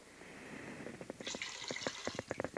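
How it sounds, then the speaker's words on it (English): Water poured into a pressure cooker already holding turkey stock for wild rice, a soft liquid rush and splash with brief glugging pulses, close and fairly faint, with no talking. "And to that I have another 1 1/2 cups of water."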